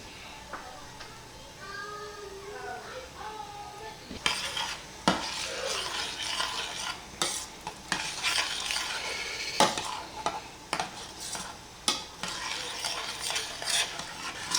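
After a brief spoken passage, a whisk clatters and scrapes briskly against a pan as grated Parmesan goes into a truffle Alfredo sauce made with truffle pâté, over a soft simmering sizzle.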